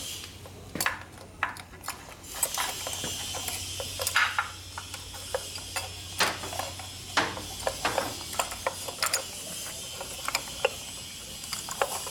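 A ratchet socket wrench clicks in uneven bursts during brake and chassis repair on a 1999 Harley-Davidson Evo 80ci motorcycle, with sharp metallic ticks over a low steady hum of a workshop.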